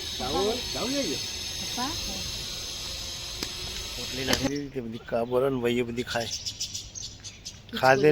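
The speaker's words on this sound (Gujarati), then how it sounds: "રોજ આટલા આવે બધા પક્ષી ખાવા માટે" Birds gathering to feed in the morning chirp and twitter in the background while people talk nearby, the calls scattered and light beneath the voices.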